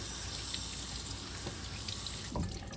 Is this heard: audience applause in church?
no